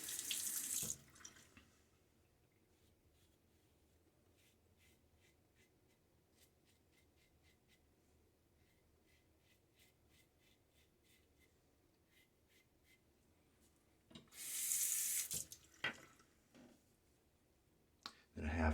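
Tap water running into a sink for a rinse during a wet shave with a Fatip Piccolo open-comb razor, a steady low wash bracketed by two louder bursts of flow near the start and end.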